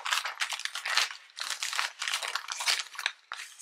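A gift package gets unwrapped up close, with continuous loud paper crinkling and rustling in bursts separated by brief pauses, no voices.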